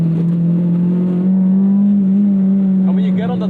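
K20 engine car accelerating under throttle, heard as a loud, steady engine drone from inside the cabin that rises slightly in pitch.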